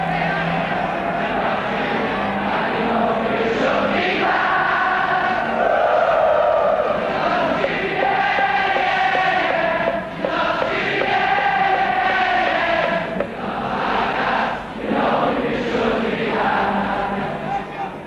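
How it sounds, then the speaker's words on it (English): Liverpool football crowd on the Kop at Anfield in 1964 singing together, a loud massed chant with rising and falling melodic swells and brief dips, sustained throughout with no separate talk. "The music the crowd sings is the music that Liverpool has sent echoing around the world."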